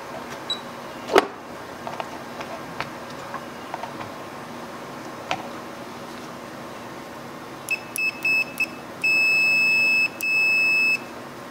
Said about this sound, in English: whenever you're in continuity mode and you find a closed loop circuit or touch your probes together, the meter will beep